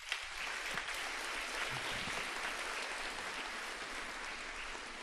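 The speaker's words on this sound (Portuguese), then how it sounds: "Uma salva de palmas para você que é católico" Congregation clapping during a Catholic Mass for the Assumption, a continuous dense roar of applause filling the church, even in level from start to finish.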